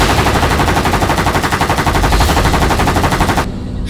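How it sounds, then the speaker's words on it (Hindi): Rapid bursts of automatic gunfire, loud and close, firing continuously in a fast rhythm before cutting off abruptly near the end. "ये पटाखों की आवाज नहीं, कोई गोली बरसा रहा है।"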